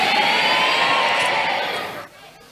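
Loud church congregation applause with some cheering fills the space, steady for about two seconds before fading sharply to a quieter murmur.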